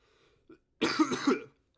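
A man's single harsh cough, close and loud, preceded by a faint throat noise in an otherwise quiet room.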